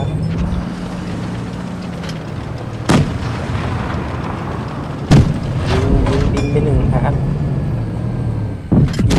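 Tank cannon fire in the mobile World of Tanks game: two or three sharp, loud booms stand out over a steady engine rumble and battle noise, with a voice talking throughout.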